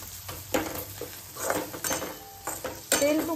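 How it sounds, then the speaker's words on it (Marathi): Dried shrimp (kolim) tossed with chilli in oil in a pan, a metal spoon scraping and clinking against the pan in irregular strokes with a faint sizzle underneath, close up. "परत एकदा व्यवस्थित सगळं परतून घ्यायचं."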